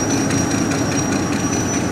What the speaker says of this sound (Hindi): वो ट्रेन जा रही है, ट्रेन जा रही है।